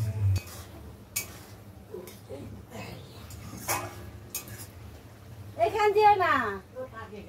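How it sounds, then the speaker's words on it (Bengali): A spoon scrapes and clinks against a pan as chicken with spices is stirred and sautéed, in scattered taps and scrapes while a voice talks over it. "এই দিক দিয়ে চিকেনের মশলাটা একটু ভালো করে কষিয়ে নিচ্ছিলাম"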